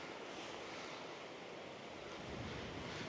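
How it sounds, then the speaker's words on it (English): Strong coastal wind buffets and roars continuously at high tide in the South Hams, with a broad rushing noise like surf underneath, steady and full throughout. "today is very windy"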